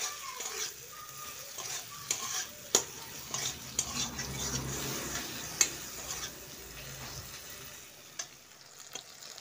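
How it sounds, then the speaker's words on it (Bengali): Spice paste with ground garam masala being stirred and fried in a pan over a low gas flame for a fish-bone curry, with a steady soft sizzle under repeated scraping and clinking of a utensil against the pan. "আর দিয়ে দেবো গরম মশলা গুঁড়ো। আর একটু কষিয়ে নেব।"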